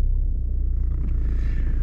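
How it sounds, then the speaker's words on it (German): A car engine cranks and catches, giving a steady loud low rumble close by throughout, with no talking; the car's battery voltage had been sitting around 11 volts before starting. "Ich starte jetzt mal das Auto."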